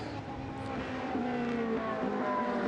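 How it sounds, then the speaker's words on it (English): A Ferrari 458 race car in a Trofeo Pirelli round at Jerez de la Frontera drones along the track, its engine note a steady mid-distance whine with shifting pitch over a faint rumble. "tiniest margin of gap that he can put the nose of his 458 into and try and get past Philip Barron."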